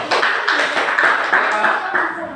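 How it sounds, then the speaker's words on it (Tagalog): A class group in a classroom demonstration claps together in a quick rhythmic pattern of about seven sharp bursts at even intervals, with voices mixed in. "Isang palakpak ang pangkat dilaw"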